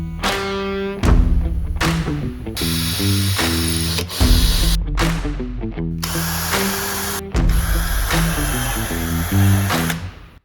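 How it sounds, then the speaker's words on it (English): Power drill boring holes in wood for a coat rack with shelf, heard as several loud, close bursts of whining motor whose pitch rises and falls, separated by short pauses. "I'm gonna drill holes in here"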